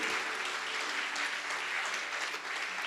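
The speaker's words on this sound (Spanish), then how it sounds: "Denle un fuerte aplauso al Señor" A church congregation gives loud, sustained applause, a dense, even roar of many hands clapping at once for the whole stretch, with no pause.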